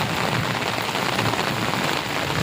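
Heavy rain pours steadily during a thunderstorm, a dense, loud, continuous hiss with no pauses and no voices.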